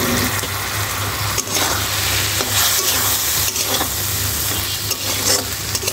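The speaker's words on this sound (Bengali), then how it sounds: "আর চিংড়ি মাছটি কিছুক্ষণ কষিয়ে নিব।" Shrimp sautéing with spices in a hot pan, a continuous dense sizzle with stirring scrapes and occasional bursts of spattering, close and loud with no talking.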